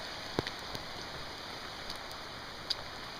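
Light rain from a tropical storm falls on a farm, a steady soft hiss with a few scattered drop taps.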